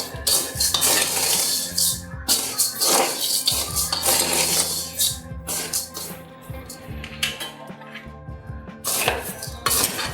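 Leftover rice is fried and stirred in a pan with repeated metallic scraping and clinking of a spoon against metal, irregular strokes over a faint background hiss.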